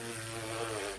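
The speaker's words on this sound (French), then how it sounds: "mes lèvres vont se toucher et vont faire une vibration." Lips buzzing together to make a tuba-style vibration, a short steady low buzz lasting about a second, heard alone and close.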